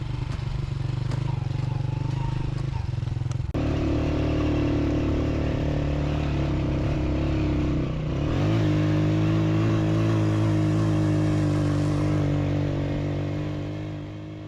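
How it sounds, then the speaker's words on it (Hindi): Locally modified motorcycle engine in the mountains of Gilgit Baltistan, Pakistan, droning steadily and loudly throughout with a shift in pitch midway, as if revving or changing gear, with faint clatter beneath. "अब हमें अपनी बाइक छोड़ के इनकी बाइक पर जाना होगा"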